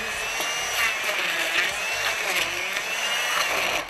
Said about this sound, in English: I'm going to use a handheld blender.